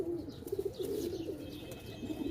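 Several loft pigeons keep up a continuous rolling coo, soft rounded calls overlapping close by, with a few brief bright chirps above a steady low room noise.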